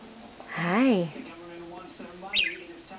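Pet budgies chirp and warble in a room, with bright rising and falling calls near the start and a short high chirp later. Someone talks close by through most of it.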